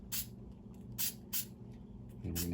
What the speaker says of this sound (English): So grab your spray glue again